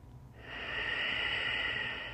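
One slow, deep breath is drawn during yoga practice, heard close as a soft, airy hiss that swells and holds for about two seconds.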